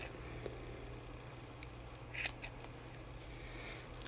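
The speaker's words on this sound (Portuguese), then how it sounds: "a gente vai cortar todas as alcinhas, você vem aqui e corta" Scissors snip through crochet yarn loops in a few quick, quiet cuts, clustered near the middle, over a low steady background hum.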